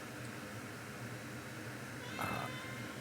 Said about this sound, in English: Come here, you little adorable cute kitten.